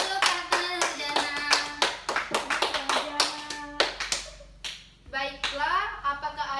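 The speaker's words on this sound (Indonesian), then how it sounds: "Silakan tepuk tangan untuk Ratna Jana" A fourth-grade primary school class in a science lesson claps hands for a classmate, a string of sharp, close claps in an irregular rhythm, with children's voices chiming in between.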